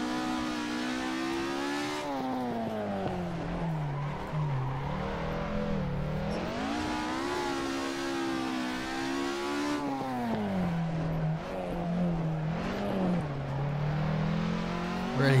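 A MK1 Ford Escort classic hot rod races in Assetto Corsa, its engine droning loudly and continuously as revs rise and fall through gear changes and corners, up close with no talking.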